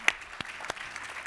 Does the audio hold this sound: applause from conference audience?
yes